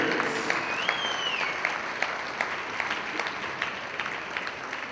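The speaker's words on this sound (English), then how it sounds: "how about one more round of applause for our 2020 Durfee High School cheerleading seniors." Applause in a high school gym at a boys basketball game honors the cheerleading seniors, a steady patter of many clapping hands with a few sharper claps and faint crowd noise.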